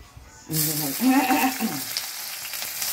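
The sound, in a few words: frying onions in a pan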